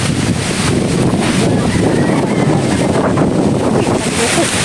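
Steady, loud wind buffets the microphone outdoors, a continuous broadband roar with no breaks, while people carry gravel to fill a yard.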